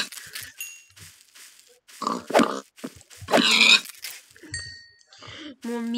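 Pigs grunt in the game Turned, with short snorting grunts scattered among chiming tones and game effects, partly under a voice speaking.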